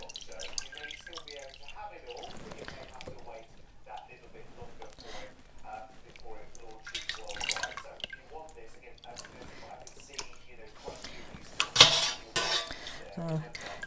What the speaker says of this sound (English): Taking out all the curds.